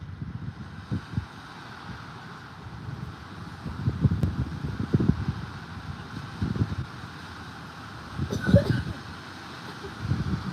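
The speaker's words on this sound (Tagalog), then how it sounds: "lakas ng hangin" Strong wind buffets the microphone outdoors with gusty low rumbling that swells and fades, a few faint voices underneath.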